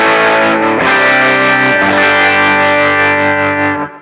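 Distorted electric guitar through the Boss Katana-100 MkII preamp into an IR loader: one loud sustained chord with a slight mid-clip change, ringing for about four seconds before being cut off.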